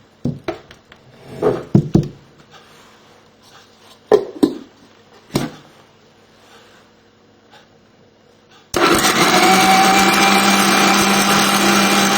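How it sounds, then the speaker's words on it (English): A grinder-mixer blends soybean batter with water for a soy bean cake, starting after some scattered clinks and handling sounds and then running as a loud continuous whir to the end. "I am using this as the grinder as well as a mixer"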